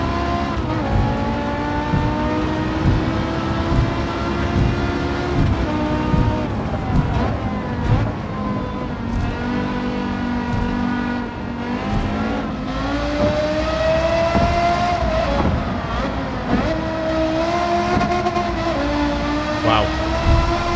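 A Porsche Carrera GT in Gran Turismo 7 wails with its high-revving engine, a loud continuous tone rising and falling through gear changes as the car drives hard, with a voice talking over it at times.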